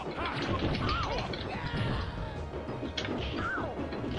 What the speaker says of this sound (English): Cheeky grenade.